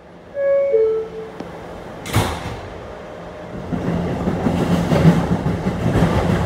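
An R211 subway shuttle train on the Rockaway line, heard from inside a car: a brief chime and door sound, then the train pulls away with a rising rumble and rhythmic wheel clatter that grows steadily louder.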